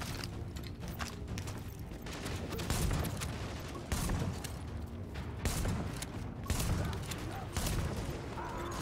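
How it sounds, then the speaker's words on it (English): A shotgun firing in The Division, a run of blasts and mechanical clacks repeating every second or so amid dense, fairly faint game combat noise. "Oh, wow, the shotgun's actually quite powerful."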